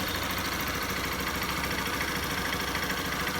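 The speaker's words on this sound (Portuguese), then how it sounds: "Vamos esperar sempre ela aquecer para, no caso, lubrificar todas as peças do motor" A Honda Bros 150 motorcycle engine idles steadily while warming up, a close, loud, even putter with a constant mechanical clatter and no speech throughout.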